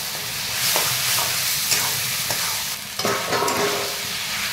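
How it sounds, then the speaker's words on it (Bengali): Chicken rubbed with salt and turmeric is stirred into frying masala in a pan for a red chicken curry, steady close sizzling broken by scraping spatula strokes every second or so, with no talk. "এখানে আমি চিকেনটা ভালো করে আমি নেড়ে দিলাম।"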